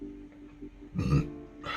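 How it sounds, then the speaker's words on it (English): A close, low, guttural burp that rumbles briefly, followed by a faint breathy exhale in a quiet room, with no words spoken. "Sorry, I'm so sorry about burping."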